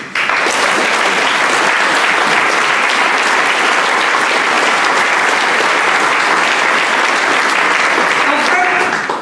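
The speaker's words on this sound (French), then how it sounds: "Vous pouvez les applaudir." Loud, sustained applause from an audience at a New Year's political address, dense even clapping filling the room for about nine seconds before tapering off.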